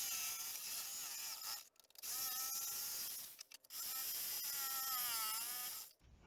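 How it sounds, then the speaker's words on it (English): A jigsaw cuts a hole in a panel for a homemade paint booth, a loud, steady buzzing whine that runs continuously in two long stretches with brief pauses between cuts, close and alone. "So I'm gonna start jigsaw using the jigsaw to cut the hole."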